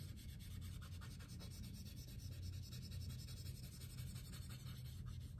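A Q-tip rubs and smudges pencil on paper in a soft, continuous scratchy swish, faint and close, repeating in small strokes with no voices.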